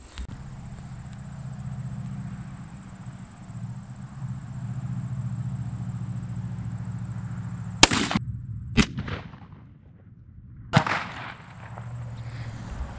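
An Impala Plus shotgun with a Carlson Cremator choke fires Migra 3-inch BB and 2 shot loads outdoors, three sharp, loud reports spaced a second or two apart over a steady low hum.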